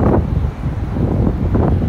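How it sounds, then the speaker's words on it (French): Outdoor wind blows steadily across the microphone in a neighbourhood, a continuous low rumbling buffet with gusty swells and no speech over it. "Vous sentez, vous voyez le vent?"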